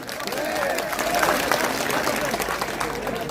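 Crowd clapping at an iftar and prayer gathering for a political leader, a brief patter of hand applause that is fairly soft and diffuse, mixed with murmur and voices.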